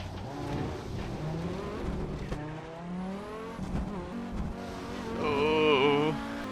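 Audi Sport Quattro S1 racing up Pikes Peak in a driving game, a steady engine note rising and falling through gear changes at speed, with a brief tire squeal near the end.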